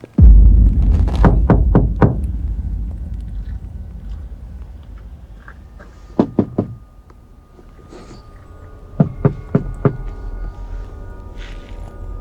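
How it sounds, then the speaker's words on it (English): Pounding knocks on the outer panels of a van parked in a forest, coming in three separate bursts of four to five sharp, loud thuds each, moving to different spots, with quiet pauses between. "A stranger began pounding on the panels, knocking in different places as if testing for a reaction."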